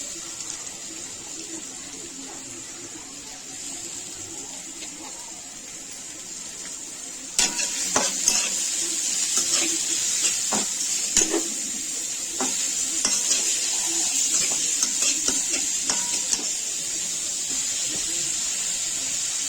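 Finely chopped onion sautéing in oil for a dry chicken dish: a steady sizzle that grows louder partway through, broken by repeated scraping stirs against the pan, with no voices.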